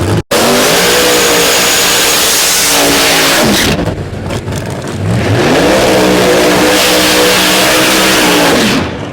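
A Pro Nitrous drag race car launches at a drag strip with a deafening, close engine roar that climbs through several rising gear pulls, briefly drops, then screams again as it passes, with no talking.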